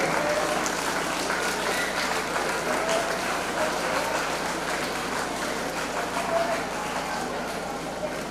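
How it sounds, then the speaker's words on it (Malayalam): A school hall crowd applauds to welcome newly admitted students at an opening ceremony, dense sustained clapping from many hands at steady loudness, with faint voices mixed in. "നിറഞ്ഞ കൈയടിയോടെ ഇവരെ ഈ സ്കൂളിലേക്ക് നമ്മൾ സ്വാഗതം"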